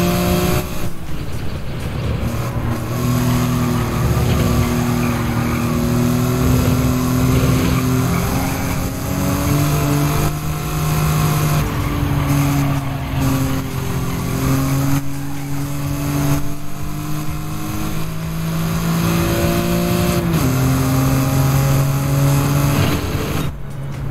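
A BMW race car drifting through corners in Gran Turismo 7, its engine a loud, continuous roar with rising and falling pitch as it revs, steady throughout with no talk.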